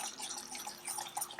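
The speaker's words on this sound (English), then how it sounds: "Look at this, it's just bubbling like crazy." Apple pie filling bubbles in a pot, a faint, busy run of small pops and gurgles that continues steadily, with no one talking.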